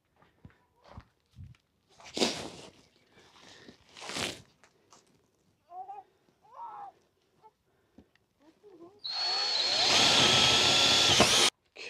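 A power drill boring holes for a homemade blackjack table, heard after scattered handling knocks and footsteps as one loud sustained whirring run near the end.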